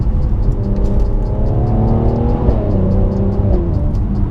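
A Mercedes-AMG C43's engine revs up hard, with a brief break in pitch at a gear change before it climbs again. The sound is steady, close and loud, with no voices.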